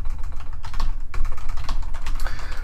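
Someone types a prompt on a computer keyboard, the keys clattering in quick, continuous bursts close by with a brief pause partway through.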